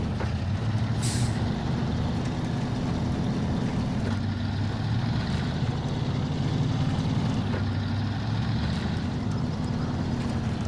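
A heavy truck grinds through swampy mud in Snowrunner, its engine drone low and constant, with a short hiss of air brakes early on and faint clunks over the steady rumble.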